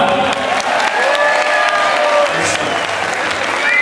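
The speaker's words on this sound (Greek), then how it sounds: "ένα μεγάλο χειροκρότημα για ένα μεγάλο τραγουδιστή" At a cultural association's dance event, an audience applauds and cheers a singer with loud, continuous clapping and scattered shouts, while a voice on a microphone speaks over the crowd.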